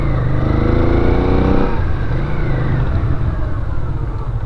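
A 1983 Honda Ascot motorcycle accelerates close by, its engine note climbing in a rising rev before settling into a steady, loud running drone as the ride continues.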